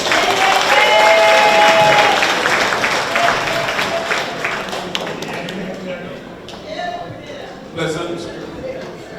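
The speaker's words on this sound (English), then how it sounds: "A round of applause again for him." Audience applause at an NDC New York chapter town hall meeting welcoming a speaker, a dense clapping wash that is loudest at first and gradually thins and fades, with a voice briefly heard near the end.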